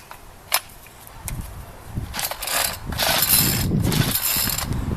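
A Ryobi 825R string trimmer engine with a doubtful carburetor being turned over by its pull-start, giving a few close, rasping recoil-cord pulls that swell into a steady whirring churn.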